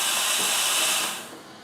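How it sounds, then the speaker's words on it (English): A Sage Barista Express SES875 espresso machine purges its group head with a loud, close, steady hiss of water and steam that holds for about a second, then drops away into a softer lingering hiss. "We're going to turn it back on for a second just to let the head purge."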